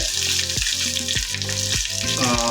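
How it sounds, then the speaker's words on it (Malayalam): Two chopped onions sizzle and fry loudly in a hot pan for a Kappa biryani, with a steady hiss broken by periodic stirring scrapes. "ഇപ്പോൾ നമുക്ക് അതിനകത്തോട്ട് നമ്മുടെ സവാള ഒരു രണ്ട് സവാള അരിഞ്ഞത് ചേർക്കണേ"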